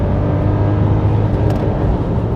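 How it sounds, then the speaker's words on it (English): A Mercedes-Benz W124 E500 V8 engine runs hard near the rev limiter, a loud, close, sustained high-rpm roar with a slight fluttering stutter, no one talking. "That's the rev limiter."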